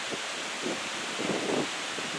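Steady wind buffeting a microphone on a high lookout, a constant broadband rush with a few gustier swells, no voices.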